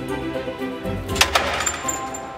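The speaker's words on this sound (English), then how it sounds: "That was the noise of the motor stopping." A lift motor stops with a short cluster of mechanical clicks and brake ticks over a steady hum, close by and fairly quiet.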